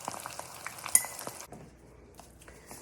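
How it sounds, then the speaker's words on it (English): Shrimp frying in oil in a pan, a soft crackling sizzle with scattered pops and a clink, fading quieter partway through, close up with no talking. "I cook my shrimp for 2 minutes and take it out."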